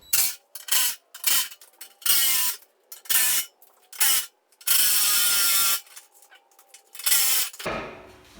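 Ratchet clicking in quick repeated bursts as 5/16 bolts come off a trim piece on a Ford F350 7.3 truck bumper, loud and close with short pauses between runs and one longer sustained spin.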